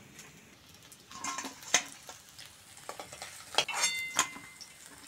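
Fish pieces shallow-frying in hot oil in a pan, a soft crackling sizzle with occasional louder spatters and utensil clinks, fairly quiet and close, without speech.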